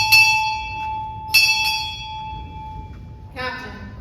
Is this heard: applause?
no